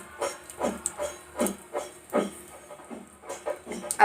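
Sliced onion frying in hot oil for a fish stew in coconut milk, a soft hiss rising and falling in short regular pulses, as if stirred, heard close and alone.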